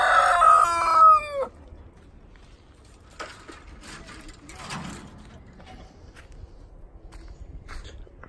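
A rooster on a farm in Italy crows once, loud and close, at the start; then come quiet shuffling footsteps and faint scattered farmyard sounds.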